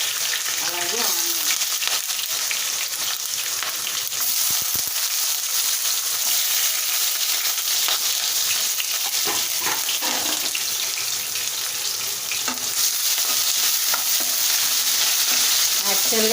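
Green chilies and onion frying in a pan for ragi upma, a loud continuous sizzle with scraping stirs and a running-water wash underneath.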